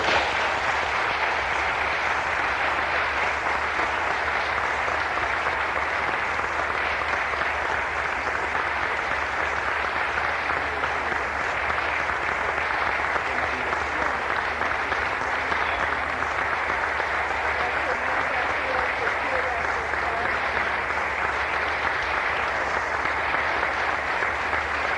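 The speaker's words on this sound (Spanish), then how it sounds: "aplausos" A seated audience at a humanist lecture in San Juan, Argentina claps steadily and evenly for a long stretch, a moderately loud, unbroken wash of hands that never swells or fades.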